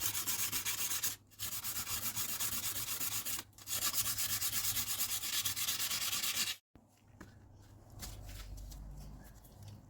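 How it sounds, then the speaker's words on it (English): Steady, close scratchy rubbing of 120 grit sandpaper scrubbing rust from a chrome-plated soap holder, continuous with two brief pauses, then stopping abruptly before quieter, lighter strokes. "So I'll just lightly sand. I'll just start with the 120, just lightly sand, just see if I can't remove some of the rust"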